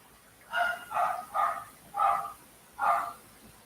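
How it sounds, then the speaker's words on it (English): Dogs barking in a quiet neighborhood: five distinct, evenly spaced barks, clear and moderately close against a hushed background. "As you hear the dogs want to bark for some reason."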